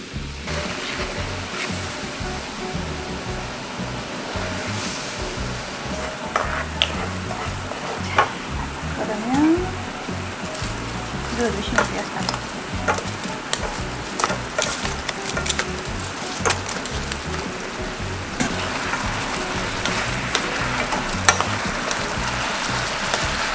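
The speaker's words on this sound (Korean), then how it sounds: "소스를 넣어서 탈탈 끓여, 끓여줄게요." Sauce boils and bubbles in a pan of chicken wings while it is stirred, a steady close sizzle and bubbling that carries on throughout with occasional clicks and scrapes.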